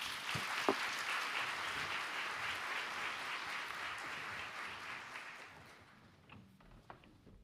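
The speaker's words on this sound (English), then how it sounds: "Let's give him another big round of applause." A school-district audience at a livestreamed State of Our Schools event claps for a student speaker, moderately loud and even for several seconds, then thins out to a few scattered claps.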